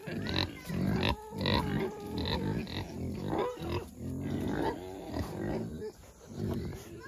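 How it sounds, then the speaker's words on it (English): Several very vocal farm pigs, waiting to be moved and fed, grunt and oink in repeated close bursts, some deep and rough and others higher, with a person talking softly among them. "Have some very vocal pigs that are ready to be moved and be fed."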